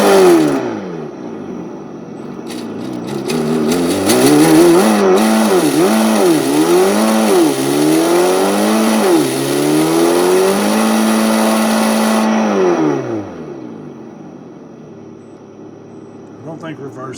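A Redcat Gen 8 RC car fitted with an ESS One sound system plays a loud synthetic engine note through its speaker, rising and falling in repeated revs before settling to a steady tone and cutting off near the end.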